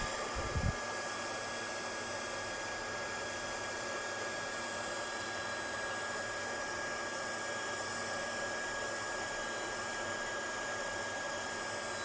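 Heat gun melting clear embossing powder on a handmade flower card, a steady, fairly quiet blowing whoosh that holds evenly throughout after a faint thump at the start.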